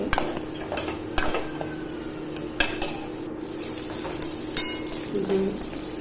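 Ground masala paste of chilli, curry leaves and cumin frying in a pan, with a steady close sizzle and intermittent spatula scrapes and taps against the metal, no talking.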